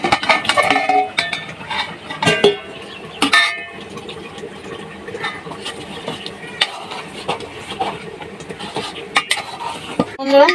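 Potatoes being added to an oily, fried masala in a cooking pot for chana dal aloo khichra, with repeated metallic clanks and scrapes of a spoon against the pot, close and fairly loud, plus soft sizzling underneath.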